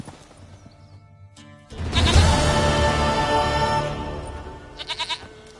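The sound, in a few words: goat bleating in a video game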